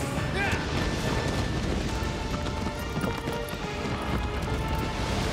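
A horse gallops in the video game Shadow of the Colossus, rapid hoofbeats under a rumbling game soundscape with a few deep booms, while a player talks.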